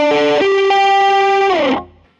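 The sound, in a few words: electric guitar through overdrive stacked with distortion pedal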